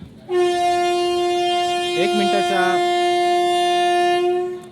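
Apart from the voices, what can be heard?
passenger train departing station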